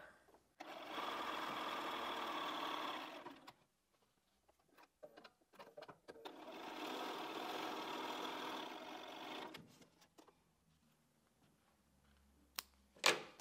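Home sewing machine running two bursts of steady stitching along a scant quarter-inch seam while piecing a quilt block, each run lasting about three seconds, with quiet handling noises between and no talk.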